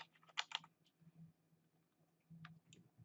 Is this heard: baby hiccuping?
no